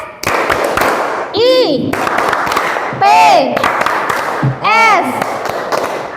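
A school class stands and performs the Tepuk IPS clapping chant for social studies, rhythmic group hand claps broken up by loud sung or shouted chant phrases from many voices, close and energetic.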